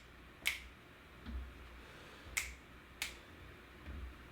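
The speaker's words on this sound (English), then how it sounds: "we're going to get 2 little snaps, or 2 little fingers, finger flicks if you can't snap your fingers." Finger snaps made during a balance exercise class: three sharp, crisp snaps spaced unevenly over a few seconds, close and clear against a quiet room.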